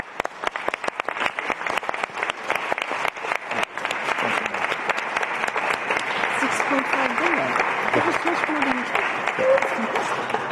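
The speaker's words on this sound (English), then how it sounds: "celebrate all Ukrainian heroes, in particular all Ukrainian heroes, with a round of applause" A large audience in a national stadium in Warsaw applauds Ukrainian heroes at a donor conference, starting with loud, separate claps that quickly swell into dense, sustained applause, with a voice faintly audible beneath.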